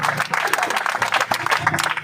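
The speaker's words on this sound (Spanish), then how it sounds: "Dame un aplauso al Señor." A church congregation claps in a brief, steady burst of applause of moderate loudness, with a little voice mixed in.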